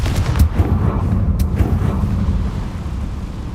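A rumbling magical blast from the Confringo spell in Hogwarts Legacy, a deep booming burst with sharp crackling impacts that rolls on as a sustained low roar.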